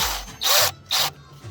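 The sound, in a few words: drill chuck being tightened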